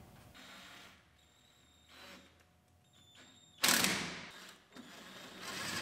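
Screws being driven into a truck fuel filler neck on a 2019 GMC Sierra Denali under repair, giving whirring mechanical bursts with clicks, including a louder close burst partway through and another near the end.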